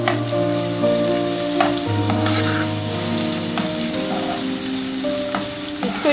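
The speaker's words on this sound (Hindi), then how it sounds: "इसको इतनी देर तक फ्राई करेंगे कि इसकी रंगत बदल जाए।" Chopped onion fries in two tablespoons of oil in a pan over a medium flame, giving a steady, close sizzle throughout, with no voices.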